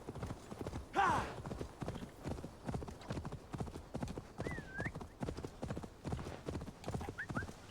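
Galloping horse hooves in the Assassin's Creed Valhalla video game, a steady rapid clip-clop running throughout, with a brief neigh near the start and faint game sounds layered over it.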